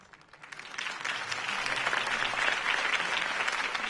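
A video game crowd breaks into applause in Batman Episode 1: Realm of Shadows, clapping building quickly and holding steady at a moderate distance, with scattered cheers mixed in.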